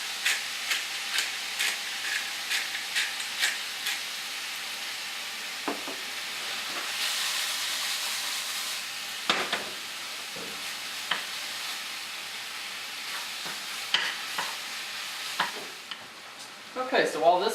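Turkey browns in a hot pan with a steady, close sizzle and hiss that runs throughout. Sharp spatters and occasional utensil scrapes and clicks sit over it, with a few louder pops near the end.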